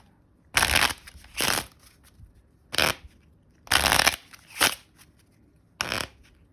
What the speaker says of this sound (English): I think it's okay to shuffle the cards however you shuffle cards.